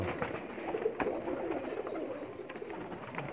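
Pet pigeons on a rooftop in a Pakistani village coo softly and repeatedly, close by, over faint background noise, with no voices.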